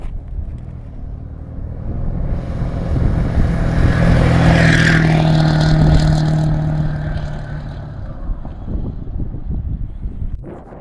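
A Ford Super Duty truck with a swapped axle drives past, its engine and road noise swelling into a loud close pass midway and then fading back to a steady hum, with no voices.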